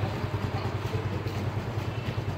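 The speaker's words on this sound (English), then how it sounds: "Our bikes are cold starting." Motorcycle engines idling after a cold start early in the morning, a steady low rumble with a pulsing beat that holds evenly throughout, no voices.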